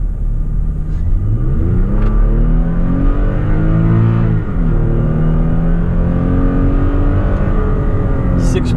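A KDMax-tuned Toyota Tacoma pulls hard from a standstill toward 60, its engine note rising loudly, dipping at a gear shift and climbing again, heard from inside the cabin with a continuous rumble.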